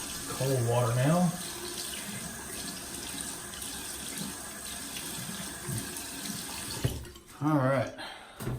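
Cold water runs steadily from a tap in a barbershop, a continuous close splashing stream, while a voice is briefly heard near the start and again near the end.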